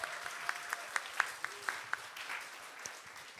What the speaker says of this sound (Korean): 다시 한번 축하의 박수를.